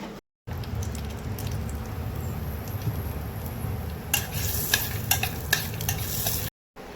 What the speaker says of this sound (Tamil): நீங்கள் இந்த மாதிரி கொஞ்சம் கிண்டிக்கிட்டே இருக்கணும்